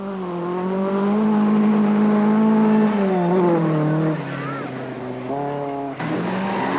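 A yellow Datsun rally car races along a 1984 NSW Rally Championship stage, its engine revving loudly and shifting pitch as it passes close by, with a commentator talking over it.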